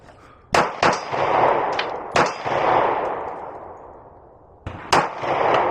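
Three loud, sharp gunshots from a Sig Sauer P365 pistol at a shooting range, each crack followed by a long ringing decay, the first two about a second and a half apart and the third after a longer pause.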